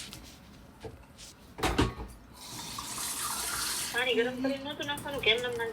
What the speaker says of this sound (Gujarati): આમાં પાણી નાખો